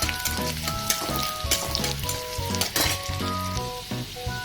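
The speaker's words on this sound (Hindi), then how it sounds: "लहसुन भाजी हो गले" Garlic frying in a pan for a homemade Gubi saag dish, a busy crackling sizzle right up close, with musical tones playing steadily over it and no talking.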